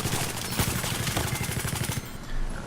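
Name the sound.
LMG machine gun fire in Battlefield 4, video game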